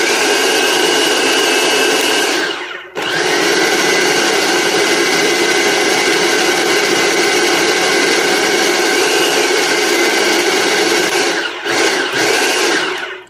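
A food processor pulses a carnivore pizza crust mixture, a loud, dense motor roar running for several seconds at a time, cut by brief stops between pulses.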